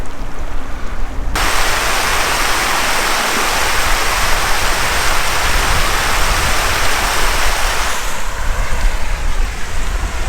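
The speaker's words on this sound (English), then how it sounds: "It's just coming down in, you know, smaller streams here, getting bigger and bigger" At Firehole Lake Drive in Yellowstone, water runs down in small streams that grow larger as they descend, making a loud, continuous close-up rush and splash that shifts slightly in tone partway through, with no voices.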